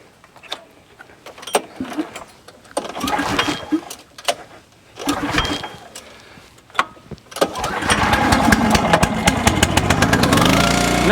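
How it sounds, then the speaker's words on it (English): The engine of a commercial vertical log splitter is cranked several times with short bursts and sputters, then catches and settles into a loud, steady running chug for the last few seconds. "So let me start it and we'll show you the log lift."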